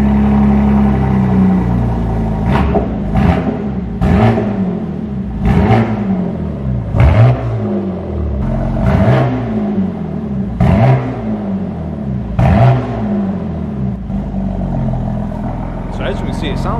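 BMW M4 G82 on its stock exhaust revving in a shop, about nine sharp throttle blips spaced one to two seconds apart, each rising and falling against a loud, steady idle rumble.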